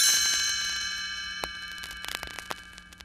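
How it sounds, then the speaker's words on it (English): A cluster of bright chimes rings out and slowly fades, with a few light tinkling strikes following as it decays. "You will know it is time to turn the page when you hear the chimes ring like this."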